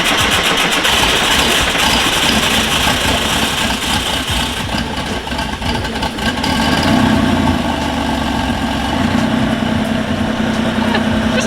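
An air-cooled Porsche 964 flat-six, left sitting for a couple of months, cranks and settles into a steady, loud idle, the engine droning continuously and close by with no one speaking.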